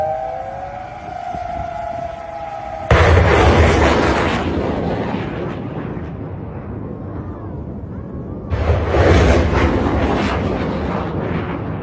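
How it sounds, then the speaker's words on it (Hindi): Missiles slam down on targets in Qatar in two loud, sustained blasts, each a sudden broadband roar that swells and slowly rumbles away, the first preceded by a droning siren-like wail. "मिसाइलें कतर में जाकर दंदनाती हुई गिर रही हैं"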